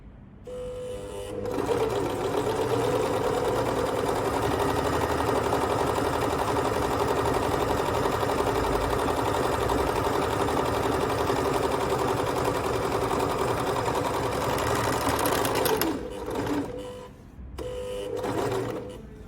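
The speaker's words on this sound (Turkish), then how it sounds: "Aşağı doğru konumlandırdık ve pedalımıza basarak dikişimizi oluşturuyoruz." A tugi MK1881 overlock sewing machine stitching fabric with a two-thread overlock, running in one steady, loud, high-pitched whir for about fourteen seconds, then stopping and briefly restarting.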